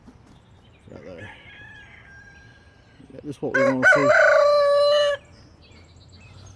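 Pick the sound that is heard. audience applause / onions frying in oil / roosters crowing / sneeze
roosters crowing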